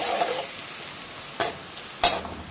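Onions go into hot ghee and corn oil, a soft steady sizzle close by, broken by two sharp stirring scrapes, with no talk.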